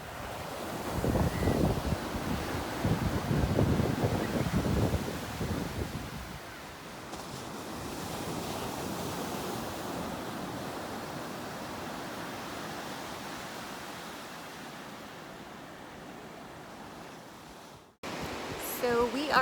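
Strong wind and ocean surf at La Mesa dog beach in Santa Barbara under overcast skies, with loud gusty rumble for the first seconds easing into a steady broad wash of waves and wind noise that cuts off abruptly near the end.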